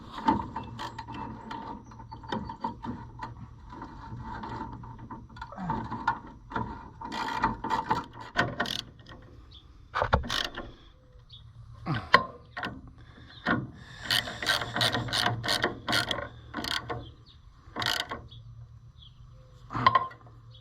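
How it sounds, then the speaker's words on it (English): Socket wrench ratchet clicking in bursts while a fitting is tightened during a hydraulic cooler and hose install, with scattered mechanical knocks and rubbing between runs, fairly close with no talk. "we need to get us a wrench now, or a socket, I should say, and tighten it down"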